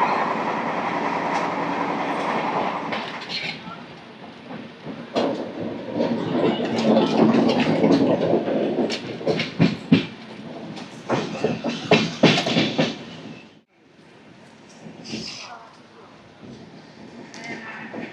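The 12807 Samata Super Fast Express from Visakhapatnam runs at speed near Parvatipuram, heard from inside as a loud rhythmic clickety-clack and rattling rumble with a brief drop in level before the clatter resumes.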